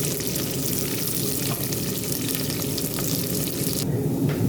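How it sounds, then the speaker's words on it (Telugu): Onions, green chillies and curry leaves sizzle steadily in hot oil in a pan, a dense continuous frying hiss close up with faint stirring scrapes. "ఇప్పుడు ఆనియన్స్ కూడా వేసేసుకున్నాం అలాగే రెండు రమ్మలు కరివేపాకు ఇలా దోరగా వేగేంత వరకు వేగించుకున్నాం"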